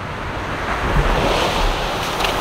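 Ocean surf washing onto a beach at Mazatlán, Mexico, a steady close roar of breaking waves mixed with wind buffeting the microphone, no voices.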